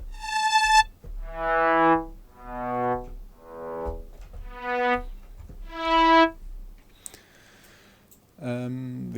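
Procedural synthesized plucked string made from a delay line with dampening, a sequence of bright pitched plucks that ring and decay one after another, clean and close, followed by a couple of different electronic tones.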